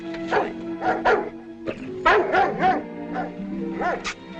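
A dog barks and yips in a run of sharp, close calls, several quick barks then whiny, whimpering yelps, fairly loud and alone without talk.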